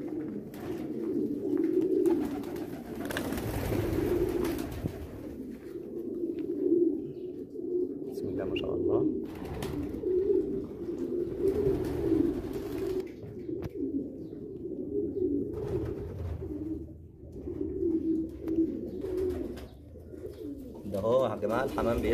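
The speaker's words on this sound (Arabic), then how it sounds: "نقرب ونشوف الحمام وهو رائد على بيض وعلى زغليل" Pigeons on a pigeon farm coo in soft, repeated rolling calls throughout, nearby but fairly quiet, with light background noise and occasional faint stirring among the birds.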